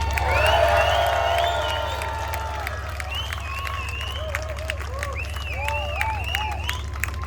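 A large crowd at an outdoor tank museum show cheers and claps, with whoops and high hoots rising over a constant roar of applause.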